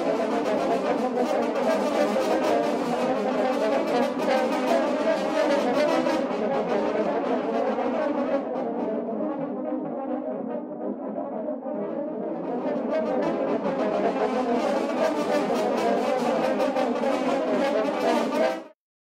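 A horn section plays sustained, full chords in a room, captured by a widely spaced outrigger microphone array for broad stereo width; the brass swells, briefly thins midway, then returns before stopping abruptly, with no talking.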